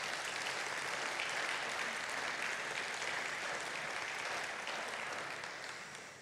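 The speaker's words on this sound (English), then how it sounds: "Give them an applause." A church congregation at a Mother's Day service claps in sustained, even applause. It holds steady, then fades slightly at the end, with no voices.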